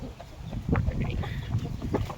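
A Taiwanese fighting rooster gives low, short clucks, several uneven calls close by against a quiet farmyard background with no talk.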